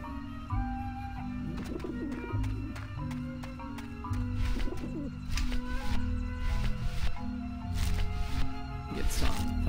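Pigeons coo within the Grim Fandango game soundscape, soft repeated calls mixed into busy music and ambient effects, with people talking throughout.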